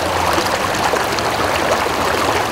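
Waterfalls on the Titovka river give a loud, continuous rushing roar of falling water that stays steady throughout, with no voices.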